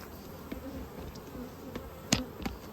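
Honey bees buzz softly around an opened hive after being shaken down into the bottom box, a low steady hum with a few sharper close passes and brief knocks.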